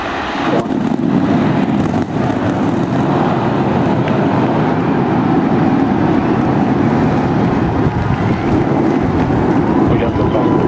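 Starship rocket launch on its eighth flight test, a continuous deep, broadband roar that stays loud and steady throughout, rumbling and crackling like heavy wind.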